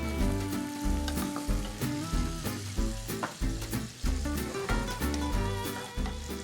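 Close, steady sizzling of garlic with peas in a hot pan, crackling continuously with rhythmic bursts as food is stirred.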